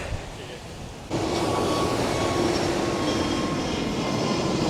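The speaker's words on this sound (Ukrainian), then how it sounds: "краще всього зловити літак, який буде приземлятися тут" Passenger airplane coming in to land near a beach at Phuket, a sudden loud jet roar that rises sharply after a quieter second and then holds steady and close, with speech present.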